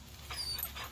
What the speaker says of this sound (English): Playing with my dog.